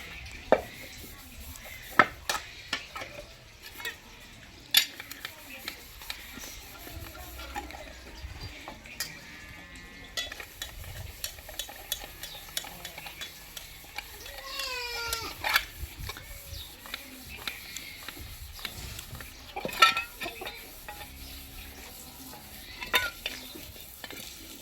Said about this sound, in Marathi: काही भांड्याला असं खसखन घासायचं